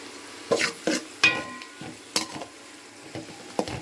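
Garlic frying in hot oil for a fish curry, with a steady sizzle broken by several sharp scraping stirs of a utensil against the pan, close and fairly loud, no voices.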